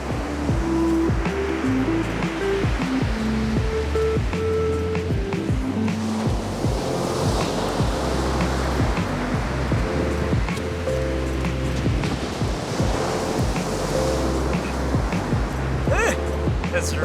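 Black Sea waves washing onto the coastline in Ukraine, a continuous loud rushing surf with wind buffeting the microphone, while people talk over it.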